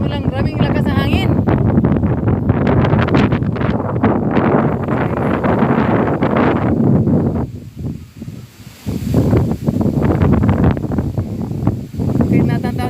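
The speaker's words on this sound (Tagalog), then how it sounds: "maraming lakas ng hangin." Strong autumn wind in Japan buffets the microphone with a loud, continuous low roar and rustle for nearly the whole stretch, easing briefly midway before gusting back up.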